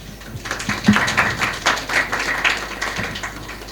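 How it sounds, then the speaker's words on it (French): Audience in the Grand Théâtre breaking into applause, a steady wash of many hands clapping at moderate loudness, dense and sustained without any voices rising above it. "il faut l'applaudir"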